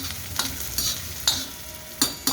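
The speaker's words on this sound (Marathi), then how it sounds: "आता कांदा छान परतून घ्यायचा." Chopped onion sautéing in a pan for a home-style vegetable dish, with a soft continuous sizzle broken by several sharp scraping stirs of a spoon against the pan.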